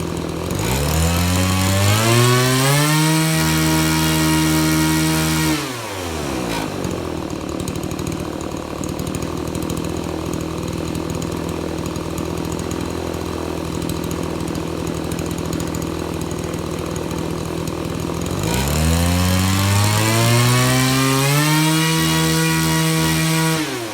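A 25cc weedeater engine spinning a propeller screams loudly at high revs, drops to a lower steady idle for a long stretch, then revs back up to a sustained high-pitched whine, with no voices.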